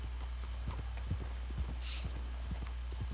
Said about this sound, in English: I think I'm gonna pat my horse.